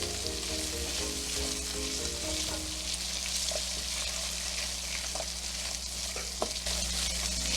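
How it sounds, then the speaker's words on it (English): Smoked sausage browning in an oiled pan, with a dense, constant sizzle and crackle close by and a brief metallic clink near the end, with no voices. "We want to brown the sausage, right? Brown the edges."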